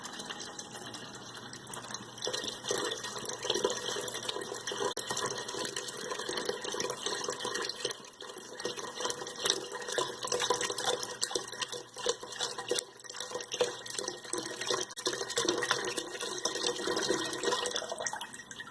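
Broth pours steadily from a punctured carton into a pot of homemade French onion soup, a continuous close splashing and gurgling stream lasting nearly twenty seconds with no talk.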